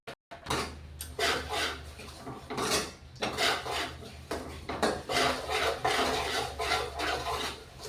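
Metal spoon scraping and stirring spices in a pan while making murmura chivda with coriander powder and chivda masala, a steady run of close clinks and rasping scrapes with no talking.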